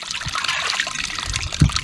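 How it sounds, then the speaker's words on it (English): A small spring rises clear from the ground and flows over muddy moss in the wilderness, making a steady, close trickle and burble that runs the whole time with no talking. "here's my little spring coming right out of the water"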